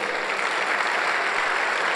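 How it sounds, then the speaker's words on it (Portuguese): A church congregation applauds for Jesus at a pastors' breakfast gathering, a dense, steady wash of many hands clapping at even loudness throughout, with no speech over it. "dê um aplauso ao Senhor Jesus"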